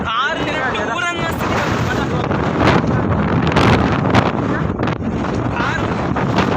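Strong wind buffets the microphone on a drive through Bisle Ghat, a continuous loud rushing roar with gusts, while people talk underneath.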